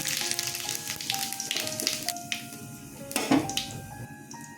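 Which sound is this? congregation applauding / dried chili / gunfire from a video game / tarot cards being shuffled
dried chili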